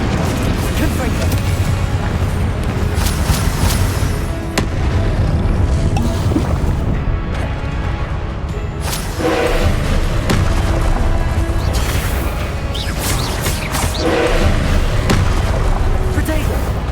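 Repeated Confringo spell blasts from the Hogwarts Legacy video game combat burst and boom over a dense, loud, continuous wash of battle noise and music, each blast sharp against the constant roar.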